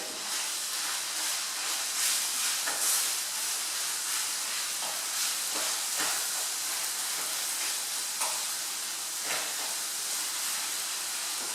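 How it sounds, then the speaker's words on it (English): Spiced lamb sizzling in a hot pan for hummus, a steady close hiss and crackle with occasional louder pops and scrapes, continuous throughout with no talking. "I can really hear that lamb is sizzling away."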